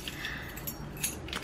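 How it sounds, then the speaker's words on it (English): A bunch of car keys and house keys jingles close by, light metallic clinks and rattles in short bursts over a quiet background. "Next I see are my keys, my car keys, my house keys."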